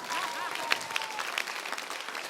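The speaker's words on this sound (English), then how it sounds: "You clap for Jesus when I finish preaching." A church congregation applauds during a sermon, dense steady clapping filling the room with scattered voices mixed in.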